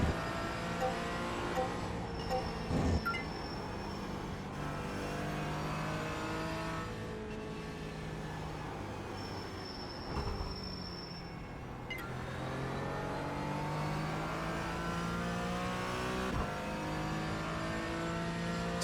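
Race car engine in the iRacing sim, steady harmonic drone with repeated downshift blips and rising acceleration sweeps through a sequence of corners, loud and continuous with no talk.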